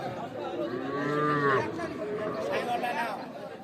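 A young bull calf of under three months moos at the Ambari cattle market, a drawn-out harmonic call rising above the crowd chatter and voices of buyers and sellers haggling nearby.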